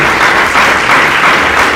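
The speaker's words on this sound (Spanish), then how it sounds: "Dale otro aplauso a Dios, por favor" Church congregation clapping loudly in praise, a dense, close burst of applause filling the room without voices.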